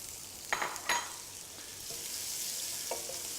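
Crushed, chopped garlic and leftover leek frying in a pan for fried rice, a steady close sizzle with a few brief stirring clatters early on and no voices.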